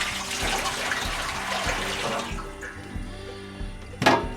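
Water poured into a maple syrup boiling pan set up in a back yard, a steady splashing pour running for several seconds and tapering off, with a brief louder splash near the end.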